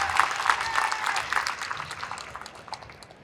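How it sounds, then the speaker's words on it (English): At a women's screen printing and wide format awards ceremony, an audience claps for an absent award winner with brisk, bright applause that gradually thins out toward the end. "we'll give her a round of applause"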